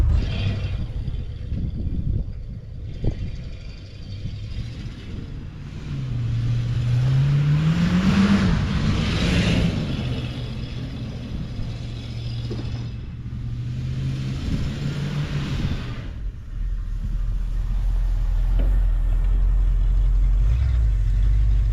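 A Ford Dentside pickup truck's engine revs and rumbles while drifting, rising in pitch through a pull and settling back; the rev sweep is loud and close, with no talking.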